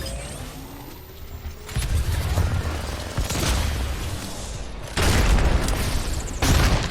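Grenades and ultimate abilities detonate in an Apex Legends pro-league match, with heavy booming blasts that swell around the two-second mark and again near five and six and a half seconds over a dense battle din.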